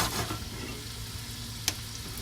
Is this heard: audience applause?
no